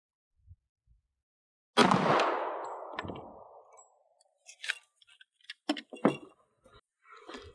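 A Glock Model 27 with a 3.75-inch barrel fires one 97-grain .40 S&W ARX round on a range. The sharp, loud crack decays over about a second and is followed by scattered clinks and small handling knocks.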